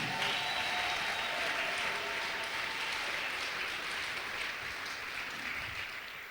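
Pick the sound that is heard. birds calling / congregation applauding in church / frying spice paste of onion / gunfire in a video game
congregation applauding in church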